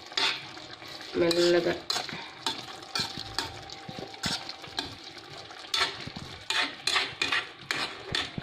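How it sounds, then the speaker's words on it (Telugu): Vadiyalu gravy curry of black gram being stirred slowly in a pan, a spoon scraping and clinking against the metal over a soft sizzle, close up, with a brief spoken word. "ఇది ఇలా కొద్దిగా మెల్లమెల్లగా కలుపుకోవాలండి"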